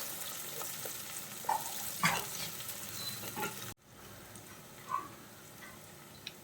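Ingredients for beef curry are sautéed and stirred in a pan, giving a quiet, steady sizzle with a few soft scrapes of the spoon and a brief cut partway through.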